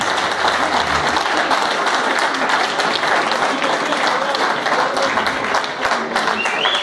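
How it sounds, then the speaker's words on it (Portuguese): Sustained audience applause fills a live stage show, dense and steady throughout at close range, with a faint dip near the end. "Grande salva de palmas da vossa parte."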